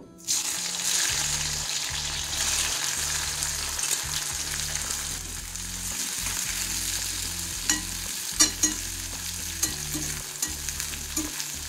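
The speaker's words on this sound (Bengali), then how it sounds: "এবারে উচ্ছেগুলো একটু ভেজে নেব।" Bitter gourd fries in a generous amount of mustard oil, bursting into a loud hiss at the start that settles into a steady sizzle. Close spatula scrapes and knocks come now and then, and no one talks.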